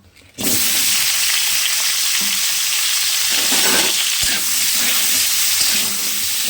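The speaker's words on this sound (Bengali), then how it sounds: "তেলটা গরম হয়ে গেলে কেটে ভাপিয়ে রাখা আলুগুলো তেলের মধ্যে এবার দিয়ে দেব" Steamed, cut potatoes drop into hot oil in a kadai and burst into a loud, sustained sizzle. Occasional stirring knocks and scrapes can be heard under the steady frying hiss.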